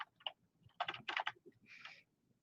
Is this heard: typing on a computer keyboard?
yes